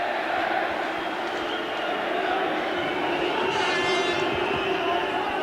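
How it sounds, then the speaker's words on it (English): A boxing arena crowd roars steadily, urging on a tired McAuley during a bout against Fidel Bassa, a dense, unbroken wall of cheering and shouting voices. "Crowd trying to urge McAuley on."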